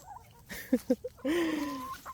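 Cuckoo Marans hens cluck close by in a short burst of two quick clucks followed by a longer drawn-out squawk, fairly quiet.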